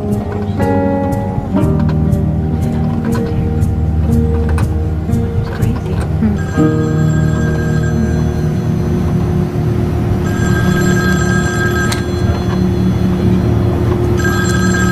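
A telephone rings repeatedly aboard a bus, its bell-like tone cycling over a steady low engine rumble while people talk nearby.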